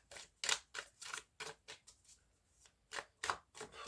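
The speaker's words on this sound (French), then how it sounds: "je vais juste recouvrir ce roi de pique" A tarot card laid over another card on a table, a run of soft, close papery slaps and slides coming in irregular quick taps, faint and without any talk.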